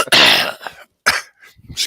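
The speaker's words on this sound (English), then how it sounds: "Excuse me while I cough my brains out." Several harsh coughs burst out in quick succession, loud and close, with short gaps of silence between them.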